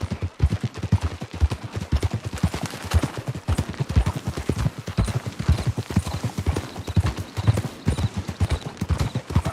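Horse hooves clip-clop steadily in Red Dead Online, a rapid, continuous rhythm of close, loud hoofbeats at a gallop, with faint game ambience underneath.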